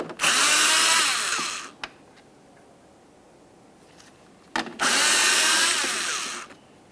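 A power tool spins out two 7mm-headed bolts behind the open rear liftgate of a 1998-2002 Lincoln Navigator during taillight socket work: two loud, close whirring bursts, each nearly two seconds long, separated by a quiet pause with a couple of small clicks.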